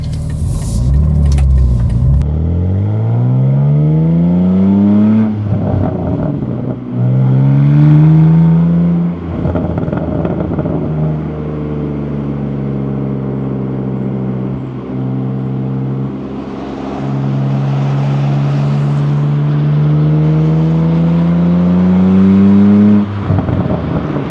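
A BMW G87 M2 fitted with an AWE SwitchPath exhaust accelerates up an on-ramp in Sport mode, loud and close, engine pitch climbing through several gears with brief dips at each shift and a sustained deep exhaust drone.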